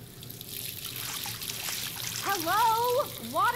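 Tap water trickles and runs steadily in a girl's dormitory in the Life Is Strange video game, a soft continuous flow that sits under game music with tonal melody lines rising toward the end.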